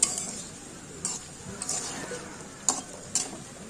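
Beef and potatoes cook in a pot with the lid turned back, and a spoon stirs them with a few light metallic clinks and scrapes over a soft, steady sizzle, close by.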